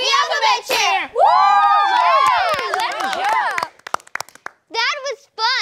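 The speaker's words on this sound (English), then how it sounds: "Thanks for cheering with us." A group of children cheering and shouting together at the end of an alphabet cheer in a nursery-rhyme show, loud overlapping excited voices with a few claps, then brief pauses and more short cheers.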